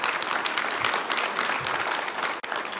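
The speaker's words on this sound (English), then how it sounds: "the producers in the room should be giving a very warm round of applause on that one." An audience at a keynote conversation breaks into steady, warm applause, a dense wash of clapping that holds evenly for a few seconds.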